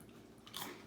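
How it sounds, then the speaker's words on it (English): A bite into a piece of homemade bread, one soft crunching snap near the mic midway through, quiet and alone with no talk. "So let's hear you take a big bite"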